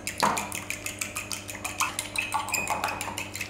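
Milk and egg for a chicken pie glaze being mixed in a bowl, giving a quick run of light clinks and scraping taps against the dish, fairly close and steady throughout.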